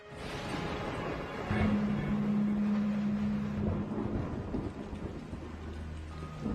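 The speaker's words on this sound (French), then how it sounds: "Le vent hurlait avec une force inouïe. Les éclairs se succédaient les uns après les autres." Stormy night with thunder and a howling wind, a broad continuous roar that swells around the middle, with a low droning tone running beneath it and no voices.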